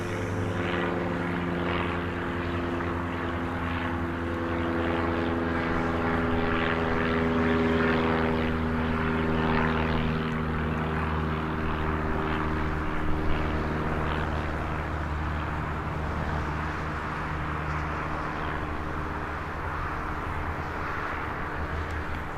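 A propeller aircraft runs on the runway at Birmingham Airport, a steady droning engine hum with strong propeller tones heard at a distance, continuous and unchanging, with no talk.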